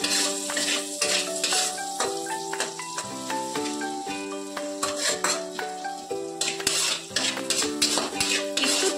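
Lote fish jhuri spices with turmeric and chopped chilli stirred in a pan, a steady scraping and clinking of utensil against metal over continuous light music, with no voices.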